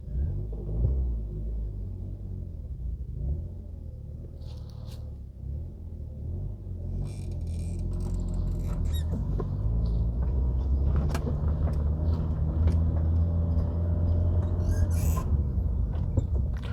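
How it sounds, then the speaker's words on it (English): Vehicle traffic on a residential street in Olney, Philadelphia: a low engine rumble builds as cars approach and pass close by, growing louder and steadier in the second half. "Got traffic coming."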